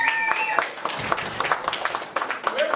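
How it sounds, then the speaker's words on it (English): A round of applause at a community leadership academy meeting in Los Angeles, a moderate burst of clapping across a small group that runs steadily for a few seconds, with a voice talking over it. "a big round of applause for our general manager, Gracie Lowe."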